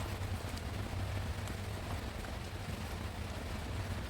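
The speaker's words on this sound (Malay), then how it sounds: "Bunyi agak bising semasa saya memasak sambal ni, sebabnya tengah hujan." Steady, dense rain pours outside while sambal nasi lemak with ikan bilis is cooked indoors, a constant broadband hiss with low rumble filling the whole stretch, no talking.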